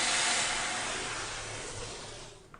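An SC3000 steam cleaner lets out a steady, loud broadband hiss of steam that fades slightly over a few seconds, with no voices present.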